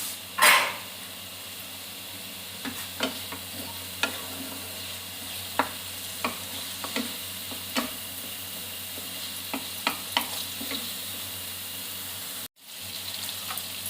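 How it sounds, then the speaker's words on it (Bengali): Onions with whole garam masala frying in oil, a steady soft sizzle with scattered light stir clicks and one louder clatter near the start, then a short dropout near the end. "তারপর যে পেঁয়াজটা কাটা ছিল সেই পেঁয়াজটাকে ভালো করে ভাজতে হবে"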